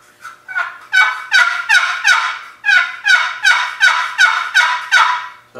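A paddle-style turkey call yelps in a rapid, loud series of about a dozen evenly spaced notes in two runs, close and alone with no talking.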